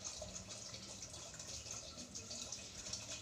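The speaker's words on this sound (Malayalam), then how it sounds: "ആവശ്യത്തിന് വെള്ളം ഒഴിച്ചു കൊടുക്കാം" Water poured over tapioca in a pot, a steady faint gushing and splashing stream that runs continuously without pause.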